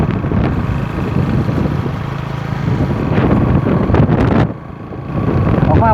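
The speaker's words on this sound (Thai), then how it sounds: "ลมแรงมาก" Strong wind roars and buffets the microphone as a storm approaches a rural village, a loud, continuous rush with gusts that drop briefly near the end before rising again.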